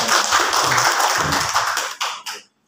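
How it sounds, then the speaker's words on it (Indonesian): A small group claps for a presenter at a teacher workshop in Morowali, a short burst of mixed claps that thins out and stops within a couple of seconds. "Tepuk tangan dulu untuk Ibu Zainal."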